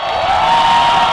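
A huge crowd at a Million People March rally in Luneta roars together in a sustained, loud, dense wall of shouting and cheering for the whole brief moment.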